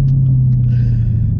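A 2018 Chevrolet Camaro ZL1 1LE with active rev match, heard from inside the car on a rough road, gives a deep, steady engine rumble at a constant, loud, close level.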